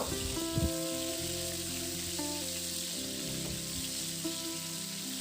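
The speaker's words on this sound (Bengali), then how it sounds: "এবার ওই গরম তেলের মধ্যে লবণ আর হলুদ মাখানো ঝিঙেটাকে দিয়ে ছেড়ে দিয়ে এবার ঝিঙাটাকে খুব ভালো করে একটু ভেজে নেব" Salted, turmeric-coated ridge gourd fries in hot mustard oil, making a soft, continuous hissing sizzle, fairly faint and even, with a low hum underneath.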